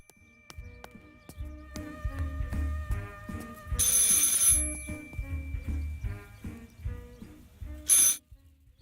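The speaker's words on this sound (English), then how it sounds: "I should pick up the phone but remain silent." An old telephone rings in Martha Is Dead, a game set in wartime Italy, with bursts of bright bell ringing over a low rhythmic mechanical and musical background, fairly close and with no voices.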